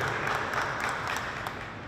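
A crowd at an Ecuadorian flag raising ceremony in Newark applauds in a dense, steady burst of clapping, moderately loud and brief, with no speech over it.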